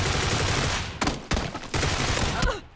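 Rapid bursts of automatic gunfire in the battle game PUBG, loud and close, broken by two short pauses near the middle and trailing off at the end.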